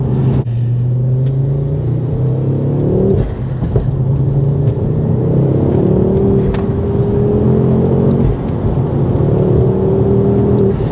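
A Mountune MR375 Mk2 Ford Focus RS accelerates hard from inside the cabin, the engine note climbing through the revs in repeated pulls with brief gear-change dips, loud and steady with no talk.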